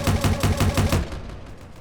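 Particle cannon in the From the Depths video game fires a rapid string of about seven loud, evenly spaced blasts with a shotgun-like spread, then the sound fades into a softer trailing rumble.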